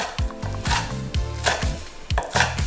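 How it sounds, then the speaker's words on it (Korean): A knife roughly chops the white part of a green onion on a cutting board, making quick, crisp, close thuds in an uneven rapid rhythm with no talking. "일단 이 뿌리 부분부터 이렇게 날려주시고 너무 잘게 다지지 말고 조금 듬성듬성 잘라주시면 될 것 같아요"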